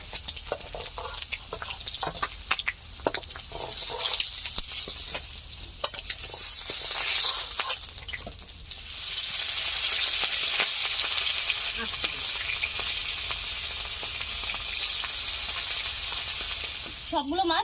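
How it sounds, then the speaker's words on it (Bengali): Large ritha fish fry in plenty of oil under a lid, giving a steady sizzling hiss that swells louder halfway through, preceded by clattering utensil sounds and stirring, with no talk. "মাছগুলো তো প্রচন্ড তেল, তো তেল ফেটে গায়ে আসছে, তার জন্য ঢাকা দিয়ে ভাজছি।"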